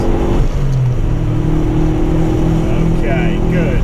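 A race car laps the Mallory Park circuit during a tutorial session, its engine a loud, steady in-car drone with shifting pitch as it accelerates, while an instructor talks over it.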